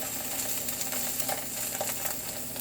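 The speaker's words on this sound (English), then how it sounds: "You sear it. So just roll it." Steak edges searing in a hot pan on a stovetop, a steady broadband sizzle that holds at an even level throughout, close and continuous, with no talk over it.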